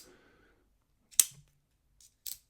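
A folding knife's lock gives two crisp, sharp metallic clicks about a second apart, close and loud against near silence, with a brief faint tick between them.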